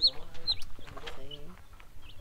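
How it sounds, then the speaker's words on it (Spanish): Chickens clucking on a ranch, several hens giving short, close clucks and calls in a busy run with soft background noise. "Y aquí tienes todas tus gallinas."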